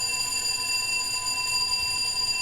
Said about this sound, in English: sounds like we have a fire alarm, people.